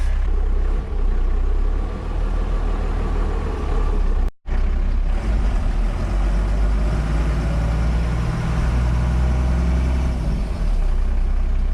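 12V Cummins diesel engine running with a steady, loud, low rumble close by, interrupted by one brief drop near the middle before the clatter resumes without voices.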